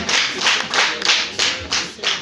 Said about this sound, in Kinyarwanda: nibaguha amashyi